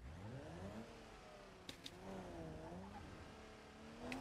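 A car engine hums steadily while the vehicle makes a three-point turn, its pitch rising and dipping as it revs, with a couple of sharp clicks midway and no talking.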